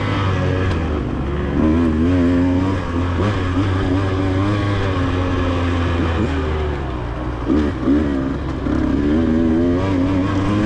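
Motorcycle racing at the Twin Hills track in a TCCRA event, a continuous loud engine drone with rising and falling revs as bikes accelerate and shift, steady throughout with no talking.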